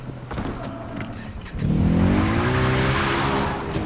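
In Far Cry 3, a car is driven at full throttle, its engine note rising and holding a steady, loud roar after a brief quieter start.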